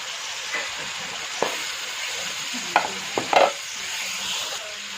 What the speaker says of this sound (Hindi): जी अब इसमें हम प्याज डाल देते हैं।